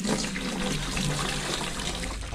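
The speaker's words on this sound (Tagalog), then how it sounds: "Bukal na tubig." Spring water from a mountain source gushes and splashes steadily and close up, a continuous broadband rushing with no pauses and no voices.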